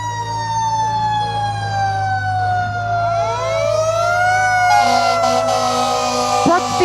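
A refurbished vintage fire truck's siren wails loudly at a Christmas parade of lights, its rising and falling tone sweeping steadily over a low engine rumble, with a sharp burst near the end.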